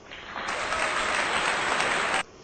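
Steady, dense applause-like clapping runs for about two seconds at moderate loudness, alone with no voices, then stops abruptly.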